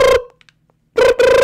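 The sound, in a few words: house phone ringing in Minecraft video game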